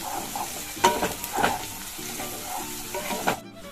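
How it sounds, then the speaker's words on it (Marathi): Chopped onion fries in hot oil in a pan, a steady sizzle under scraping stirs with a spoon, close and moderately loud, ending abruptly. "कांद्याला पण आपल्याला चांगलं तेलात फ्राय होऊ द्यायचं"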